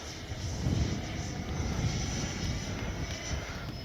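A Freewing Yak 130 RC jet plane flies nearby, its electric ducted fan giving a steady, continuous broadband whoosh that holds an even loudness throughout with no voices over it.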